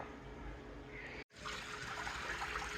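Water pours and trickles steadily from soaked rice as it is drained for a desi matar pulao, a continuous close splashing stream with one brief break partway through.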